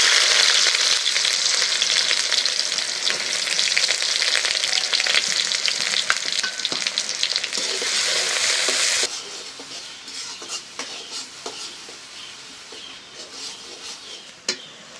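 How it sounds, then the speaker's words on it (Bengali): Sliced onions fry in mustard oil in a pan for a vegetarian dish, with a loud, dense sizzle and occasional stirring scrapes; the sizzle drops abruptly to a softer crackle partway through. "পেঁয়াজটা ভাজা নিলাম"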